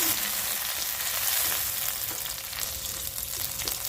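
Chopped green chili fries in butter in a pan, a steady close sizzle with faint stirring underneath and no talking.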